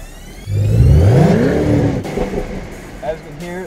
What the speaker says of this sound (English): Let's get a few revs in.